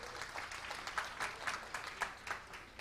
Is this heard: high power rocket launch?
no